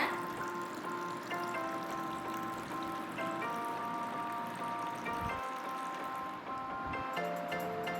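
Boiled, cooled condensed-milk milk poured into a falooda, a soft steady liquid pour with a faint sustained tonal hum, briefly interrupted near the end.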